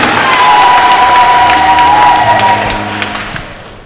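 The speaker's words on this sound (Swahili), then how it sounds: "Wapongeze tena kwa makofi mazuri" A church congregation at a Sunday Easter Mass applauds its children, steady clapping and cheering filling the room before fading toward the end.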